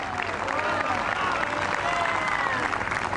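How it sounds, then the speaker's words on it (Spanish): A dense, steady wash of crowd applause fills an outdoor church event in a park, broad and continuous throughout, with a faint hum of voices mixed in. "Le damos un aplauso al Cristo que vive."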